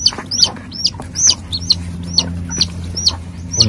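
Chickens in a native-breed poultry pen give repeated sharp clucks and chirps, close and loud, recurring roughly every half second over a low background hum.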